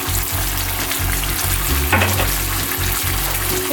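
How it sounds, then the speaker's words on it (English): Beef stroganoff sizzles steadily in a pan over medium heat, a continuous loud frying hiss with occasional stirring scrapes and a brief bubbling burst midway. "Now we're gonna let this cook on medium, just to create a little bit of a boil"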